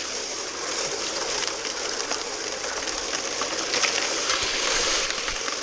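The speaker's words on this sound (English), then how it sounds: "Water pouring in there. Mud pouring in there." Water and mud pour steadily into a metal spinner bucket outdoors, a continuous broadband rushing splash with irregular sloshes, close and moderately loud throughout, with no talking.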